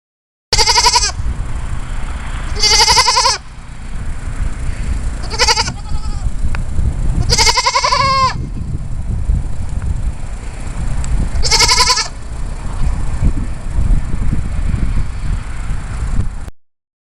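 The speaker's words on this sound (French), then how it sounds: "Et la chèvre." A goat gives about five loud, close, quavering bleats spread over about sixteen seconds. Steady wind rumble on the microphone runs underneath the whole time.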